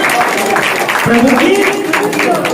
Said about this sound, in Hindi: ताली बजाकर हालेलुया